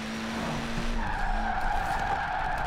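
A modified 1968 Abarth 595 with 667 hp and 519 kg drifts sideways in Forza Horizon 4, its tires squealing in a sustained skid over the engine drone, loud and close.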